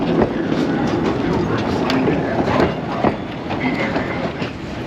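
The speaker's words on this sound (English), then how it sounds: "So if you want to get on the train" A train rumbles steadily along the tracks near a cruise port with a clickety-clack rhythm and occasional faint wheel squeals, loud and close, with no talking.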